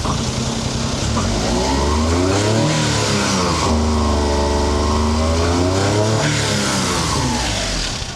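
A 660cc E07Z engine in a 1999 Honda Acty truck, running rough as if its air filter were clogged, revs up loudly several times, rising and falling in pitch, close by and with no talk.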